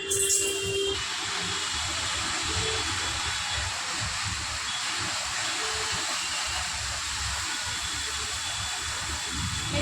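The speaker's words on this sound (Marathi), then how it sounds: "मी डायरेक्ट आता मेथीची भाजी त्याच्यामध्ये टाकणार आहे माझ्या कढईमध्ये" Fresh fenugreek leaves dropped into a hot, dry kadhai with no oil give a steady, loud broadband sizzle that hisses on without pause for about ten seconds. No one speaks over it.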